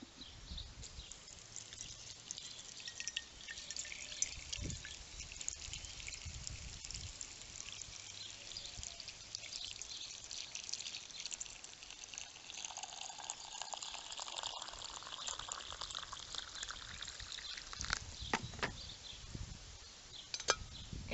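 Hot water pours steadily over garden plants in a container to make an infusion, a soft continuous trickle and splash lasting about twenty seconds, faint and unaccompanied by voices.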